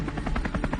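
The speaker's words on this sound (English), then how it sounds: "Captured by a helicopter flying over Colorado," A helicopter flies over Colorado, its rotor beating in a fast, loud, regular chop throughout this brief stretch.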